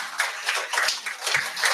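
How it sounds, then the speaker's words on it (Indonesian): Audience applause for Pak Willy at a business seminar, steady rhythmic clapping from a modest crowd for just under two seconds, close and bright. "tepuk tangan buat Pak"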